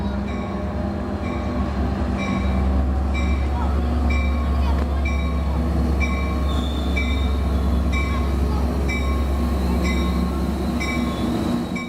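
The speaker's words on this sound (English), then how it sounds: "a Metrolink commuter train from Los Angeles" A Metrolink commuter train from Los Angeles rumbles past steadily through Fullerton, California, its wheels clacking in a regular rhythm with faint squeals over a deep, continuous roar.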